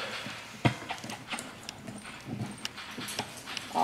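Hooves of a horse in a left-and-right barrel pattern demo at a clinic in Derby, Kansas, clip-clopping close by in a steady, uneven rhythm of soft thuds, with no talk over them.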